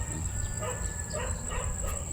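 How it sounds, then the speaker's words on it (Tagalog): A few dogs bark at a distance over a low, steady background hum, short yaps scattered across the moment. "Tatahol yung mga aso doon."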